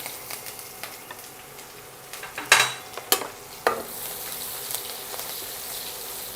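Chopped green chillies drop into hot oil with cumin for a Rajasthani papad and fenugreek-seed curry, giving a few sharp sputtering bursts and spoon knocks over a low, steady sizzle that swells toward the end.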